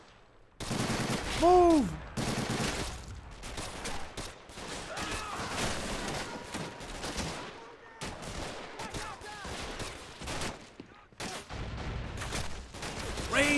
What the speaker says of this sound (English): All the bullet impacts are so cool.